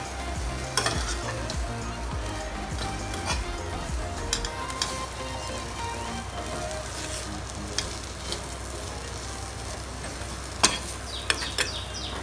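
Spices for a Rajasthani green chili pickle (mirchi ka achar) sizzle in a hot pan as they are stirred, a steady close frying hiss punctuated by sharp spoon clicks and scrapes.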